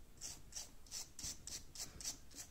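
A brush rasps repeatedly across a hair clipper head, sweeping off leftover hair in about eight steady, evenly spaced strokes, close and fairly soft, with no voices.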